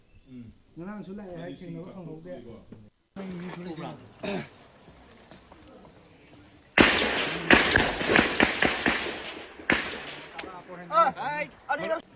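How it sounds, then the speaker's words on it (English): Heavy exchange of gunfire during armed clashes at Sugnu, Kakching district, as a run of sharp, loud cracks and thuds in close succession, intermittent at first then a dense volley, with a news reporter talking before and after. "Heavy exchange of gunfire is still continuing"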